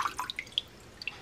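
Rinsed garlic scapes draining in a colander: a quick series of faint, sharp water drips falling one after another, close by with no talk.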